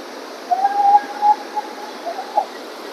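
A river fed by Himalayan snowmelt in the Kaski jungle rushes past as a steady, even wash of water noise, with faint thin whistling tones drifting over it.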